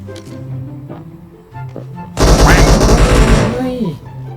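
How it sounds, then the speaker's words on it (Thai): Automatic gunfire in the PUBG Mobile video game: a loud, rapid burst of machine-gun shots crackling close by for over a second, which cuts off abruptly after quieter in-game ambience and faint talk. "สะดุ้งเลยอ่ะเสียงปืนมันดังไว้ มายิงข้างหลังนี่เลย"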